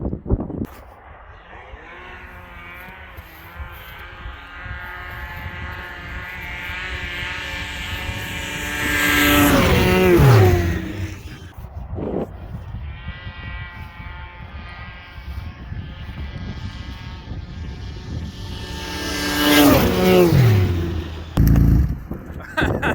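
Two snowmobiles drag racing, a 1200 four-stroke against an XC 700, swelling into two loud high-pitched revving passes that sweep downward as the sleds go by, with steady engine drone before and between them.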